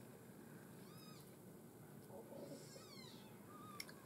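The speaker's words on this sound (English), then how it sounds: "my kittens are fighting over the milk there" Kittens fighting over milk let out thin, faint meows and squeals in two short bursts over a steady background hiss, with a small click near the end.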